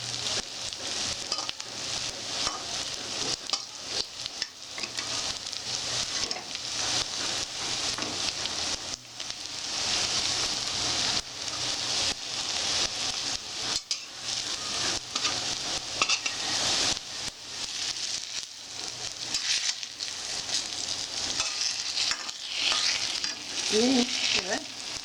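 Prawn cutlets frying crisp in a pan of oil: a dense, continuous close sizzle with steady crackle and occasional stirring scrapes, holding at an even loudness throughout.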